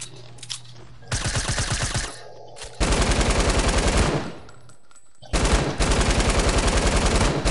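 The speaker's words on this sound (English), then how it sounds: "I had a lot of shooting here" Bursts of rapid automatic gunfire crack out in a building-and-shooting video game, several loud rattling volleys separated by short quiet gaps, with faint background game noise between them.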